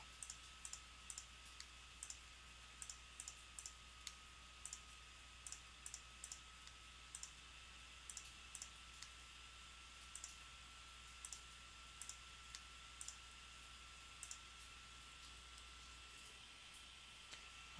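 A computer mouse clicks steadily while a photo is retouched with a clone stamp tool: soft, close, evenly spaced single clicks over a faint constant hum, with no talking.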